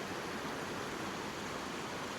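A tiny stream channel running over rocks in New Zealand bush at Kakaho and Waihaha, a steady, even rush of water close by, with no voices.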